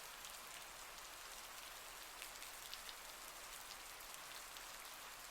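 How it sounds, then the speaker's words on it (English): Steady rain falling on surfaces outside a cabin, an even, soft hiss of many drops with a few slightly louder pattering hits, quiet and continuous without voices. "The sound of the rain, the only thing calming my nerves"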